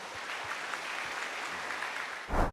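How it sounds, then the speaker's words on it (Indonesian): Audience applauding at an Indonesian religious lecture on marriage conflicts, a steady wash of many hands clapping that swells briefly louder at the end. "Boleh berikan tepuk tangan."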